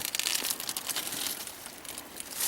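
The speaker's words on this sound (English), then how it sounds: "You get the noise off my bag that I'm carrying, it's paper." Crisp paper crinkling and rustling from a carried paper bag, steady and close, with bursts of crackle as the bag shifts and is handled, outdoors at an old cemetery.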